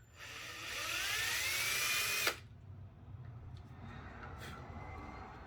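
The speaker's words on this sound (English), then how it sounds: "I'm gonna go ahead and drill the hole a little bit bigger on the third one" A power drill whines up in pitch for about two seconds while enlarging a hole in a foam L-39 model airplane, then cuts off abruptly, leaving quiet room noise with faint clicks.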